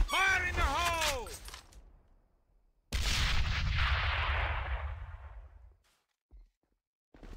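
A loud grenade explosion in the shooter game AVA, a sustained roaring blast that fades over a few seconds, preceded by a voice with a pitch-swept effect.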